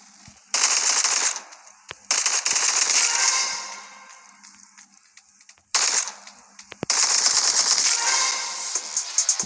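Rapid automatic gunfire rattles in a Roblox shooting game, coming in several loud sustained bursts separated by brief pauses and scattered single shots.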